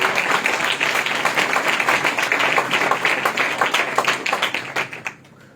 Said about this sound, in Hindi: जोरदार तालियां दें।